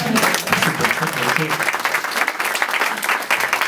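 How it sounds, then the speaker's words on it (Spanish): Applause from an audience at a book presentation greets the artist Ela Firpo, a dense, steady clapping that fills the room for several seconds at close range. "Yo le pido un aplauso para Ela"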